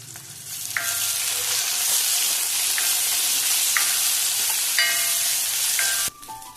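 Garlic cloves and a small piece of ginger fry in a pan, a steady close sizzle broken by several metallic scrapes of a spoon against the pan before it cuts off abruptly.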